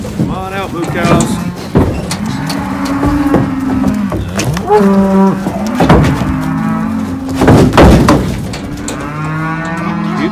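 A herd of cows being driven across a ranch low repeatedly, with loud overlapping moos rising and falling over shuffling movement and occasional faint human voices.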